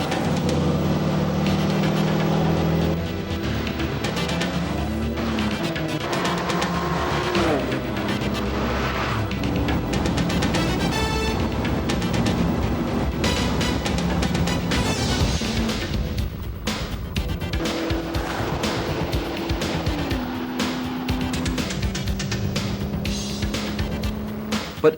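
AMG Mercedes cars being driven hard around a racetrack during a track day, engines roaring loudly and continuously as they accelerate and pass, with a brief tire-squeal quality.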